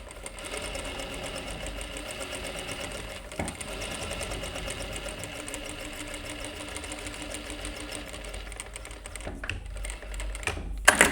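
A sewing machine stitches a seam steadily, its fast rhythmic mechanical chatter running continuously and close up for about ten seconds before brief pauses and a few louder clicks near the end.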